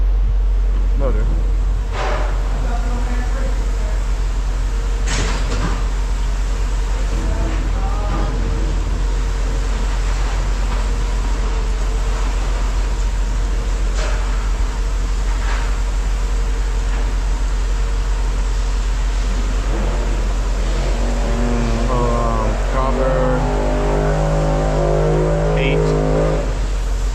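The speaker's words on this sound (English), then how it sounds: "That motor sounded clean." Motor of a scrap metal baler crushing copper and other scrap runs steadily and loudly throughout, a continuous low hum with clanks and knocks, with voices speaking over it.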